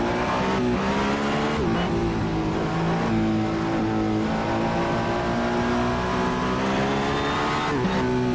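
A race car in the Assetto Corsa simulator under heavy braking, its wheels locking up: loud, continuous engine tone with pitch sweeps as the engine drops and climbs, a steady roar from start to end with no voices.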